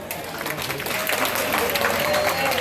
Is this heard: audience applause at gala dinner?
yes